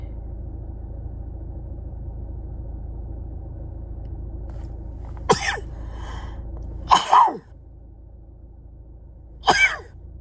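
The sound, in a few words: sneeze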